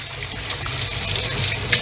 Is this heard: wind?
no